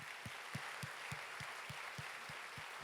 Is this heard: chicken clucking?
no